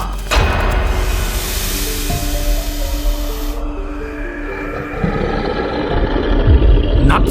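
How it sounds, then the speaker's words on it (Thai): A fierce tiger growls and roars from behind, a loud rumbling snarl with sustained tonal growl over a dense low backdrop, continuing for several seconds without speech. "เสียงขู่คำรามที่ดังมาจากด้านหลัง ทำให้พรานนุ่ม ค่อยๆหันไปเผชิญหน้ากับเสือร้ายที่ไล่ตามมา"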